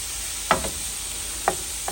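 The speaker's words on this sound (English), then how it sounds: "right now we're browning about a pound of lean ground beef" About a pound of 93% lean ground beef browns in a pan with a steady, quiet sizzle, broken by a few soft scrapes as it is stirred.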